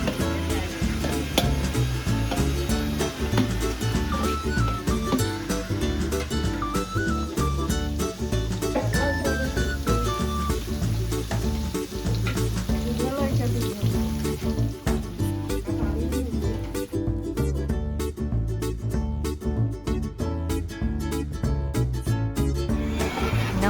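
Onions frying in oil for a Malabar mutton dum biryani garnish, a dense continuous sizzle with clinks of stirring throughout, close and steady, partly covered by music.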